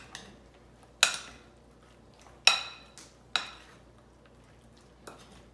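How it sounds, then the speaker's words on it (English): Sliced cucumber for a Polish mizeria salad is mixed in a bowl, heard as four or five sharp utensil clinks against the dish separated by quiet pauses, close and distinct. "Now let's just mix it."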